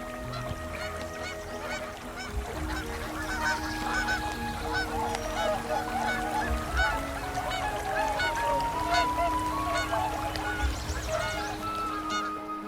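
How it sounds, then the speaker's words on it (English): Canada geese honking at a distance in Yellowstone in spring, calls repeating steadily through the whole stretch over a faint background. "the distant honking of Canada geese"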